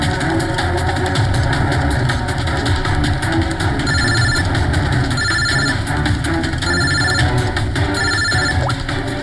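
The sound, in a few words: mobile phone ringing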